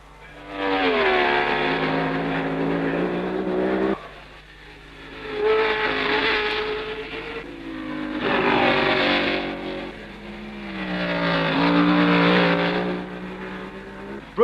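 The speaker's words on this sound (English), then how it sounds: "here he comes with a sick Lotus 25" A 1962 Lotus 25 Formula One car races at Rouen-les-Essarts, its engine rising and falling through several gear changes over repeated high-pitched acceleration runs, loud and alone without voices.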